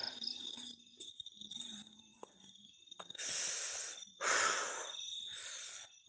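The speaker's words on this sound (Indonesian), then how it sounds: "Jangkriknya rame banget wis." Crickets chirp at night outdoors during a ghost hunt, a constant high trill running throughout. Breathy rustling bursts and soft whispered talk come and go over it.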